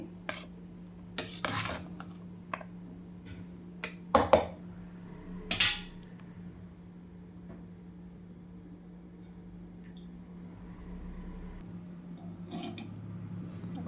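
Metal spoon scraping and clinking against a pan while tamarind rice is stirred and mixed, a few sharp clatters early on, then quieter scraping and low background hum.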